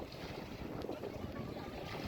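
Wind blows over Dudhani lake near Silvassa, a faint steady rumble of wind with soft lapping water.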